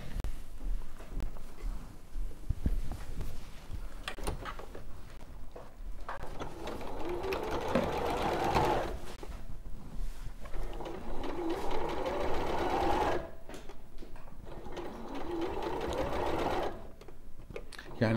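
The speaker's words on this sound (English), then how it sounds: "So I'll sew this side on." A sewing machine stitches fabric in several sustained runs separated by short pauses, its close mechanical whirr mixed with people chatting nearby.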